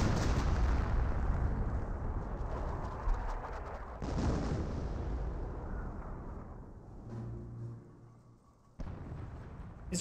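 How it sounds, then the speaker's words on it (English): Artillery barrage in the World War II strategy game Company of Heroes, with a dense, continuous rumble of shell impacts and booms, sharp breaks near the fourth and ninth seconds, and a low droning tone underneath toward the end. "the first barrage could be somewhat explained, being where he's congested, but that seemed a little bit too accurate on the PAC-38"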